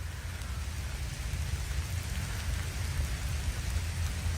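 Steady rain falls continuously outdoors at night, a dense even hiss that stays constant and moderately close with no speech over it.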